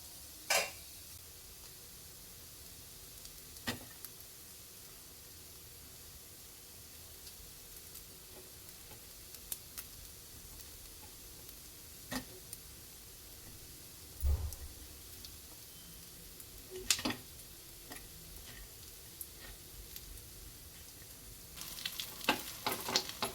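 Fasting appe cooking in ghee in a covered pan give off a faint, steady sizzle, with sparse small ticks and clicks scattered through and a slightly louder crackling stretch near the end.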